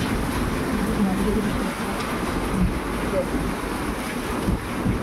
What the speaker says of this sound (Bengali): এখন মানে ভালো জোরে বৃষ্টি হচ্ছে